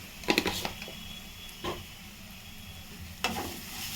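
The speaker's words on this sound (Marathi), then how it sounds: "आपण छान परतून घ्यायची" A ground spice paste with a little turmeric is sautéed in a pan, a faint background sizzle broken by three short scraping stirs near the start, middle and end, with no voice.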